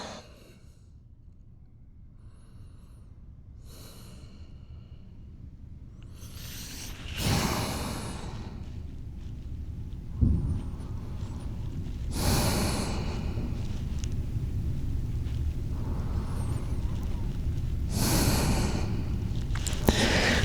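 Deep, slow breaths in a yoga pose, each inhale and exhale a long, close airy rush, several in a row with short pauses, and no talking.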